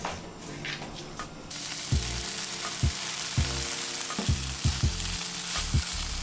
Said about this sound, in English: So I'm gonna add the hoisin now and it's just gonna soak up that flavor.